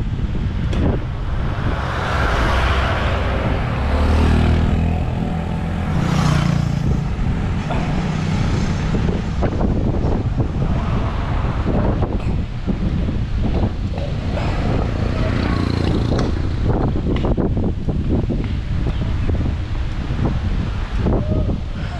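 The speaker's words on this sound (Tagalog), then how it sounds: "may hangin" Loud, continuous wind buffeting the microphone during a road ride toward Tagaytay, with a steady rumble of moving traffic underneath and no break in the noise.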